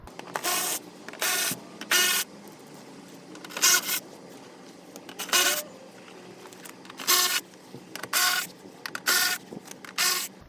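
Power tool driving out the fender flare screws on a Toyota Sequoia, a series of short, loud, near whirring bursts separated by pauses, roughly a dozen in irregular rhythm.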